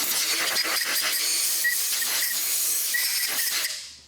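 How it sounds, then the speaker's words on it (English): Compressed air blows dust off a cleaned Ford 5.4L 3V engine block before crankshaft install, a loud, steady, close hiss lasting several seconds and tapering off at the end, with no talk. "And then of course we're going to blow the fuzzies away."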